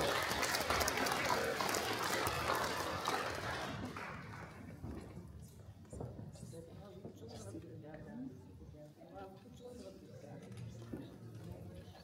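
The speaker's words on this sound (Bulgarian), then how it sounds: "Силни аплодисменти за него, оператор БНТ Пловдив" Audience applause at a journalists' awards ceremony for a cameraman, with dense clapping for a few seconds that thins into scattered claps and murmuring voices.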